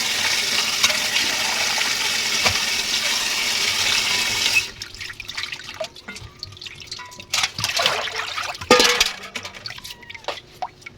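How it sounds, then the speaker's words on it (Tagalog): Vegetables washed under a running kitchen tap: a steady broadband rush of flowing water for several seconds, then the flow stops, leaving scattered drips, splashes and handling noises close by. "hugasan natin ang gulay"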